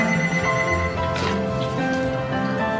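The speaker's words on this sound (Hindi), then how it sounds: "देखना तो किसका फोन है?" A telephone rings steadily, its bright electronic tone filling the moment without pause.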